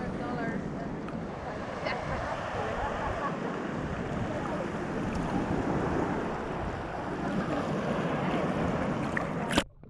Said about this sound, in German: Man sieht, die Wellen ziehen ein und dann drücken sie.